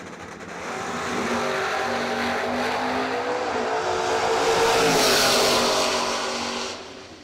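Drag racing door cars roar off the line and down the strip, a loud sustained engine howl rising and sweeping past before fading at the end.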